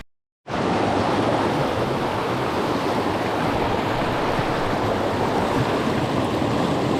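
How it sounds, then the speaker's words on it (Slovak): A small mountain stream that is narrow enough to jump across, its water rushing in a loud, steady wash of noise that starts abruptly and carries on unbroken with no voices. "Takže taký potôčik, čo sa dá aj preskočiť."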